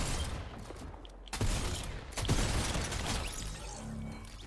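Gunfire in the Fortnite video game, dense bursts of rapid shots with mechanical clatter, loud and close with no speech over it.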